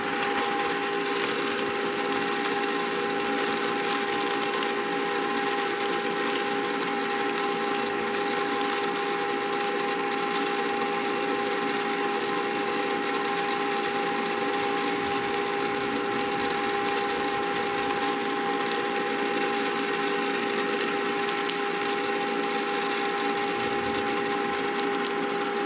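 An ice cream machine churns salty caramel ice cream with a constant motorized hum, a steady droning tone that holds unchanged from start to finish, close and moderately loud with no other sounds over it.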